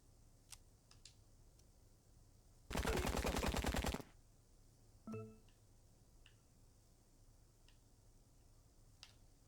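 A short burst of rapid gunfire from the crime strategy game Empire of Sin rattles for about a second, loud against a quiet background, followed by a fainter metallic click and sparse small ticks.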